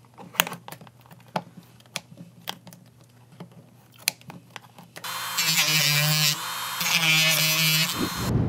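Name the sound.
cutting off plastic fin on Super73 Z1 e-bike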